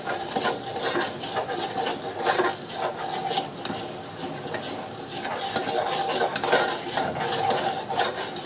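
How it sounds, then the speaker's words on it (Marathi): A kettle is scrubbed clean at close range, with continuous rasping, rubbing strokes that rise and fall in uneven rhythm. "किटली घासायला टाकली"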